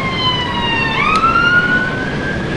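A police car siren in the video game Classic British Motor Racing wails loudly, sweeping its pitch up and down in clear electronic tones that stand alone without speech.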